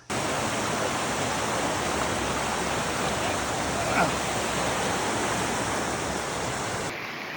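Creek water flows steadily on a hiking trail, a dense, even rushing wash that holds constant close by for several seconds before easing slightly at the end.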